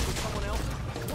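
Gunfire in the Saints Row video game rattles in a dense, loud burst of rapid shots with no pause.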